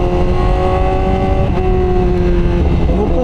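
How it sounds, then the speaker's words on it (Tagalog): A sport motorcycle on a night group ride revs hard at high RPM, producing a loud, sustained, close-up engine drone that holds steady with slight rises in pitch throughout. "Nakagigil talaga tong motor na to, lalo na pag high RPM."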